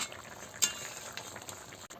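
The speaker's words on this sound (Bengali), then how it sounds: "লেবু রস দিয়ে ভালো করে আমি নাড়িয়ে নিচ্ছি।" Silver carp sour curry with lemon juice simmering in a pot while being stirred, a soft bubbling hiss throughout with one brief clink of a utensil near the start, fairly quiet and close.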